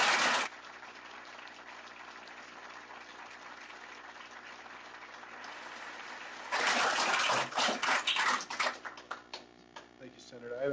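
Audience applause breaks out at a university board meeting during public comment, a broad steady clatter of many hands filling the room for several seconds before tapering into scattered claps.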